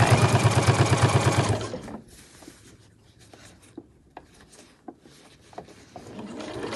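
A sewing machine stitches binding onto a fabric backpack, starting with a loud rapid rhythmic run of stitches that stops after about two seconds, followed by quiet fabric handling and a few soft taps and clicks.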